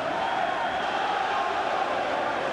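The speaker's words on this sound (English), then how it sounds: "The crowd chanting" Dense crowd noise fills a boxing arena during the Gerald McClellan vs Nigel Benn fight, a steady loud roar of chanting voices held evenly throughout with no gaps.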